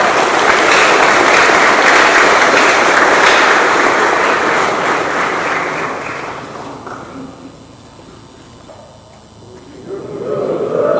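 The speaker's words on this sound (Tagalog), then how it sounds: "Palakpak!" Loud, dense applause from an audience gathered for a Philippine Army event, filling the first six seconds before thinning and fading, then swelling again briefly at the end.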